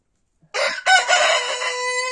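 A rooster crows loudly and close by in a backyard chicken coop, its long cock-a-doodle-doo rising out of silence, with hens sharing the pen.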